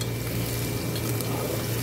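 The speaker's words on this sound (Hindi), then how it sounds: "यहाँ पे प्याज को मैंने गोल्डन करने के लिए रख दिया है" Onions frying in a pot until golden, a steady dense sizzle with light bubbling that stays close and constant, no voices.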